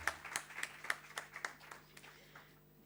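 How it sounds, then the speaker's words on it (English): A few people clap sparsely at a public meeting with Delhi's municipal commissioners, a dozen distinct claps in loose rhythm that thin out and die away within about two seconds. "So I think we should give them a clap."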